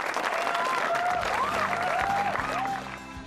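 A comedy show audience gives sustained, dense applause, steady and loud for about three seconds before tapering off, with a voice speaking over it.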